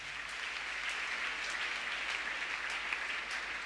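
A church congregation applauds steadily during a French family worship service, a soft, continuous patter of clapping heard from a distance.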